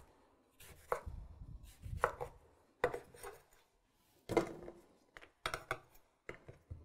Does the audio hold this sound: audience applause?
no